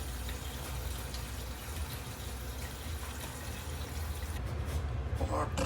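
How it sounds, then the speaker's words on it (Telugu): Water pours into a bowl while cooking Hyderabadi chicken dum biryani: a soft, continuous, faint trickling rush that holds steady for several seconds. "సో ఫస్ట్ బౌల్లో వాటర్ తీసుకోవాలి"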